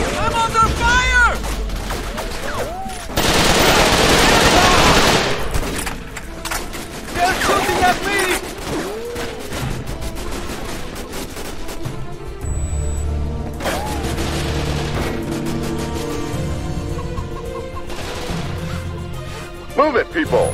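Gunfire crackles through a firefight in the PC shooter Raven Squad, with a dense loud burst early on and scattered shots continuing beneath in-game voice callouts and music.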